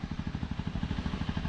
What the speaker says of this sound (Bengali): আওয়াজ শুনে হয়তো বুঝতে পারছে না, ইঞ্জিন মানে ইনস্ট্যান্টলি রিফাইনমেন্ট বোঝা যাচ্ছে।